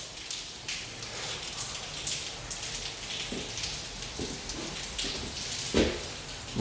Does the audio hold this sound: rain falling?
yes